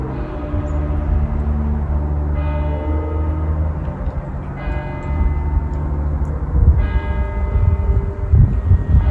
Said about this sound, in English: got to hear the famous Gresford bells toll